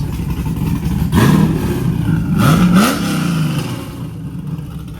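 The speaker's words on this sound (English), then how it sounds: "it's obviously cammed with probably an LS" A cammed, LS-engined Porsche Cayman at a small car meet gives two sharp rising revs in quick succession, loud and close, then settles back to a lumpy idle.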